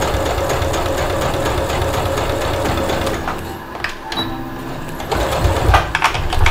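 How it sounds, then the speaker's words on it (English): A sewing machine stitches the side seam of a fabric drawstring bag in a steady close run, then slows and stops briefly before starting again, loud and without talk. "now I've got a stitch through the bottom of here, and I'm gonna do the other side"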